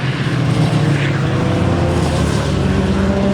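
A classic fast racing car at Donington Park circuit during an MSVR race meeting roars loudly and steadily nearby. Its engine drone holds a dense, continuous tone with no voices over it.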